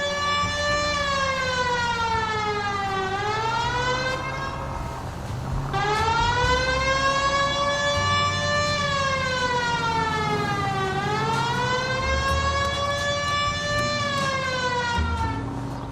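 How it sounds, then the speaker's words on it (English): A loud police car siren in L.A. Noire Remastered wails continuously, sweeping up and down in long cycles, close and unbroken with no other sounds over it. "Cole, turn on the siren and pull her over."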